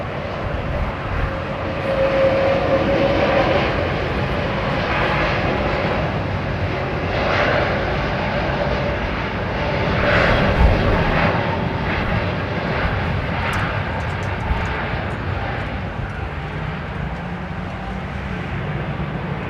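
An American Boeing Dreamliner airliner at London Heathrow gives off a steady, loud jet engine roar that swells and eases over the stretch, with a faint high whine on top and no talk.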